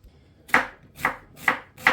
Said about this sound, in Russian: нарезаем 2 средних луковицы